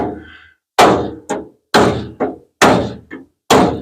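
A tool used as a hammer strikes the wrecked front end of a car: four loud, close, heavy blows in a slow, uneven rhythm, each followed by a lighter rebound hit, with silence between them.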